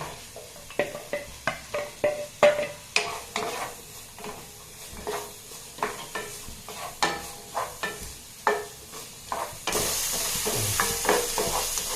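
Onion fries in a spice masala for a Kerala sardine curry with drumstick leaves: an even sizzle under repeated rhythmic spoon scrapes and taps against the pan, the frying swelling louder toward the end.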